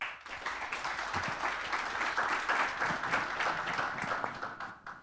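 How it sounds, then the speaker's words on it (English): A conference audience applauding its speakers at a mobility event in Miami, fairly soft, steady clapping from a modest crowd lasting about five seconds, with no voices. "can we get a little round of applause for our wonderful speakers today?"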